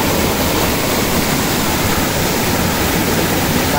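Water rushes steadily through a canal, a loud, dense, unbroken roar close by with no voices.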